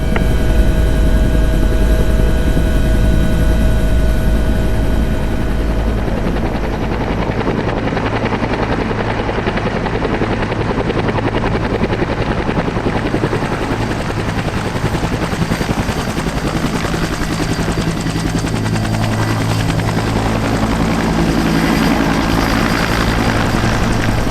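A Bell Cobra helicopter taxis to its airshow display start position, its rotor and turbine roaring loud and close in a steady, unbroken drone with rhythmic blade thumping throughout, and no voices over it.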